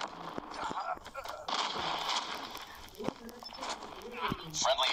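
Call of Duty Mobile gameplay with explosive blasts and sharp gunfire bursts scattered across a few seconds, a player's voice talking over the action.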